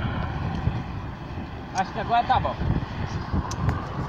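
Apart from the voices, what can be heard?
strong wind outdoors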